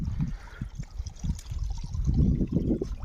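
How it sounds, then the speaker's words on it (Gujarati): Water splashes and gurgles as it pours into a tank, an uneven churning flow with bursts of louder splashing. "આ આપણો પાણીનો ટાંકો છે એમાં આપણે અહીંથી પાણી આવે છે"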